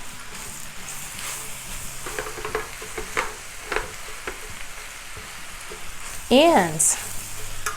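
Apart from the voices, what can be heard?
stirring macaroni and meat in a pan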